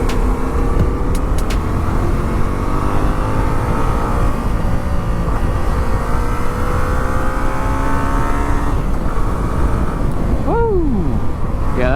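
A Yamaha FZ07 motorcycle pulls away and accelerates steadily along a road, its engine note climbing through gears under heavy wind rush, with a brief rising whine near the end.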